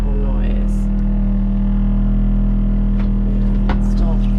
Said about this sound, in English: When I turn on the water pressure, it makes a horrible noise.